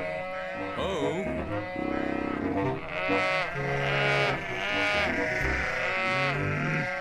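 Sheep bleat repeatedly in a cartoon set on a farm, wavering calls layered over bright music, loud and close with several overlapping cries.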